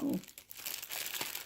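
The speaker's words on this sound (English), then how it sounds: "sorry for all the crinkling" Plastic packaging crinkles and rustles in hand, a short burst of close, quiet crackling with a soft thump at the start, lasting just over a second.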